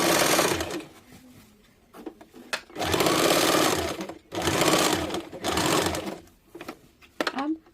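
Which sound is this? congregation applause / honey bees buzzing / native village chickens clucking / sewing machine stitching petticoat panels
sewing machine stitching petticoat panels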